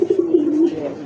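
A pigeon, one of a prized breeding pair, coos close and loud in a low, throaty roll lasting about a second.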